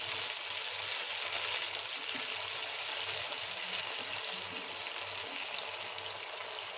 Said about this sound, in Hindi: इस स्टेज पे अब मैं इसमें थोड़ा सा पानी डालूंगी ताकि हमारा प्याज जो है वो जले ना